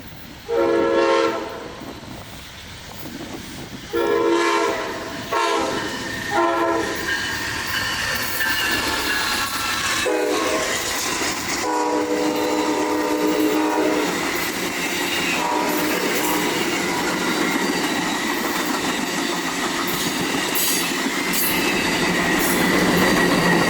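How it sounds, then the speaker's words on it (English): An Amtrak Floridian passenger train rolls past at reduced speed, a loud sustained rumble of wheels on rail with squealing and clacking, plus a few horn-like tonal bursts early on. "All right, a little slower moving Amtrak Floridian today."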